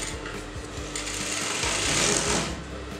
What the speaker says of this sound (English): all I'll be doing is just fold the waistband like this and just sew that on top